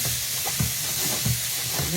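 Dried fish (tuyo) frying in a pan gives a steady, close crackling sizzle throughout, with a few soft low bumps from the cookware.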